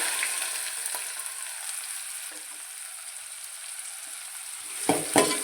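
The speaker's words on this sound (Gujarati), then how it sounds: "જીરું સરસ તતરી ગયું છે તો અંદર એડ કરશું ડુંગળી" Chopped onion frying in hot oil with crackled cumin seeds gives off a steady, close hiss and sizzle. Light stirring clatters near the end, with no voices.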